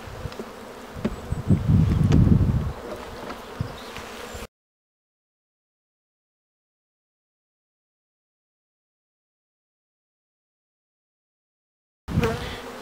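Honeybees buzz around an open hive during a spring colony inspection, a close, steady droning swarm for several seconds, then silence, then the buzzing returns briefly.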